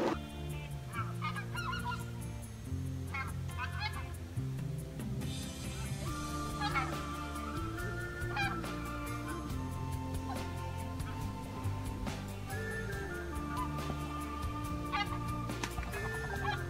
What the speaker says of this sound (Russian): слушали, как прилетали гуси